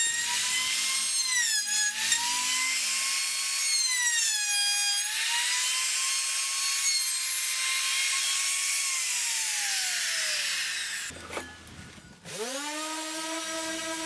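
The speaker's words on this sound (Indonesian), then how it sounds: "Pertama saya potong menggunakan jigsaw mendekati garis panduan, kemudian saya rapikan menggunakan trimmer dengan bantuan template." A jigsaw cuts through wood in a workshop with a high, whining buzz that wavers in pitch, then stops briefly before a router trimmer spins up and runs loudly along a template.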